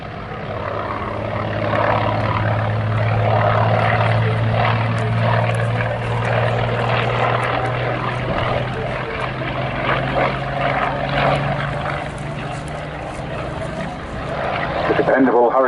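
A Hawker Hurricane propeller aircraft at the Southport Air Show 2022 drones steadily overhead with a loud engine hum. Someone talks over it throughout.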